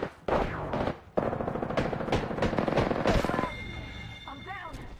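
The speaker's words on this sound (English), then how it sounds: "Taking fire. Putting lead down range." Rapid automatic gunfire in Apex Legends, loud close bursts of rattling shots broken by short pauses, fading into quieter game sounds and a chirping tone toward the end.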